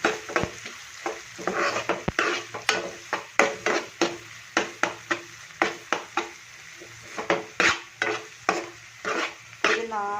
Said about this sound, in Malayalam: ഒന്ന് വഴറ്റിയെടുക്കണം